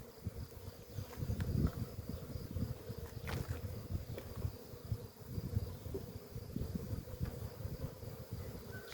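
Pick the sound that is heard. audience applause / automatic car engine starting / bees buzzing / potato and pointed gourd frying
bees buzzing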